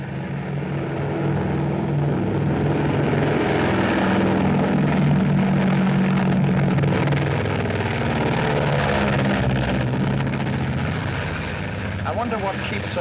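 A propeller airplane engine from a 1939 film scene drones loudly and continuously, a steady roar with a faint rise and fall that persists for the whole stretch.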